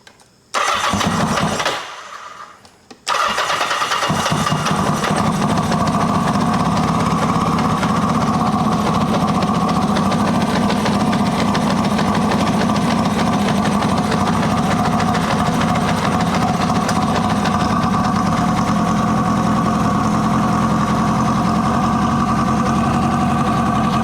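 1980 Kawasaki KZ750 motorcycle with air leaks, running on leftover gas, cranks briefly, catches after a short pause and settles into a loud, steady, slightly rough idle up close.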